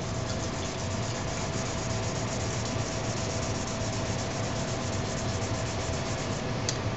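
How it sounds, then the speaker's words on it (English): Steady, close rubbing of a cloth buffing ZIG neck conditioner into a guitar fretboard, a continuous dense friction with no pauses and no voices. "Now you just buff it out a little bit."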